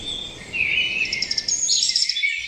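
Birds sing in an ancient forest, with quick repeated high chirps and trills rising over a steady wash of background noise and no one talking.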